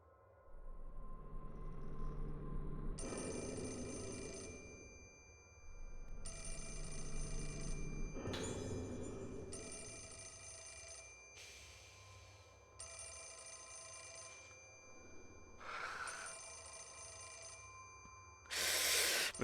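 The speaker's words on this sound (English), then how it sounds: "I'm gonna have to read this while that phone's ringing the entire time" Telephone ringing in Fatal Frame: Mask of the Lunar Eclipse, an old-style bell ring repeating in regular bursts of roughly two seconds with short gaps, steady and fairly quiet, mixed with occasional game sound effects.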